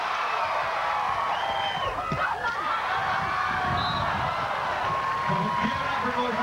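A beach volleyball crowd at the 1997 WPVA final in Hermosa keeps up a loud, steady roar of cheering and whooping for the whole stretch, with voices talking over it.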